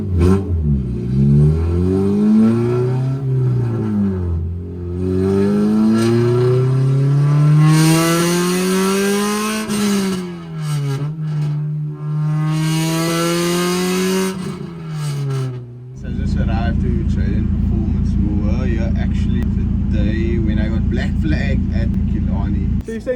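A K-series Honda Civic with an aftermarket exhaust revs loudly, rising and falling through several throttle sweeps up to a raspy high-rpm wail, then drops to a harsh, droning lower note. People talk intermittently over it.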